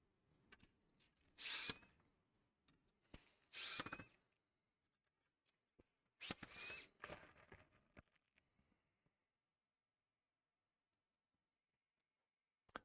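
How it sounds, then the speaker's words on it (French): An electric screwdriver opening a Nintendo Wii U console that won't power on, three short whirring bursts close by with small clicks and handling noises between them, then near silence. "Là, t'es content d'avoir un tournevis électrique, là."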